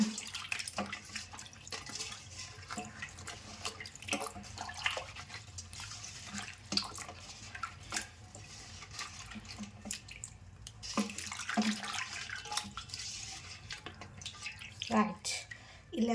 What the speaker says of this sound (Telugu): ముందుగా మనకి చుక్కకూర పప్పుకు కావాల్సిన ఆనియన్స్ అండ్ మిర్చీస్ బాగా కడుక్కుందామా